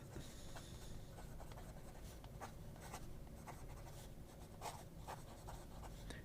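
A broad-nib Model 3S fountain pen scratches steadily across paper, laying down very dry ink, with faint, soft scratching strokes and occasional louder ticks close by.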